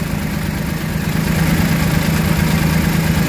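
A Suzuki DA64 mini van's K6A engine idles roughly with a fault, giving a loud, steady low drone and a shaky vibrating hum that holds unbroken and grows slightly stronger partway through.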